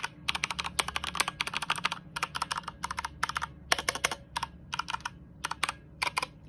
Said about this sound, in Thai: ฟังเสียงคีย์บอร์ด